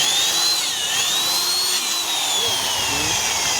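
A power drill with a 4mm bit whines continuously while boring out a broken bolt, its pitch wavering with the load throughout.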